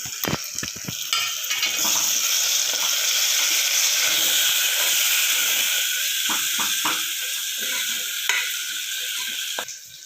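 Tomato added to a hot pan fries with a steady, loud sizzle, with a few clanks of a stirring utensil at the start and scattered scrapes throughout.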